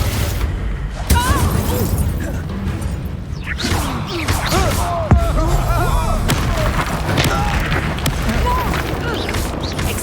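A fire spell cast in the Hogwarts Legacy video game bursts out amid loud, dense combat noise, with whooshes, thuds and crashing impacts layered under voices.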